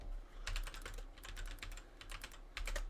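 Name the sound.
computer keyboard typing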